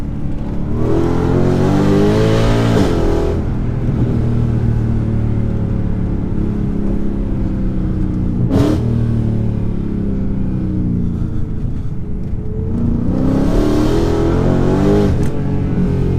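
A 2014 Mercedes C63 with a 6.2-litre 550 bhp V8 rumbles loudly from inside the car, its revs rising and falling as it drops through gears on downshifts, with sharper blips near the start and end and a quick crack midway.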